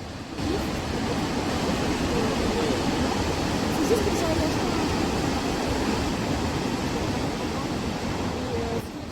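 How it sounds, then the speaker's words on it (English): The turquoise water of Lynn Creek rushes through a rocky canyon, a dense, steady roar of flowing water heard from above without pause. "the vibrant turquoise waters of Lynn Creek carve their way through the canyon"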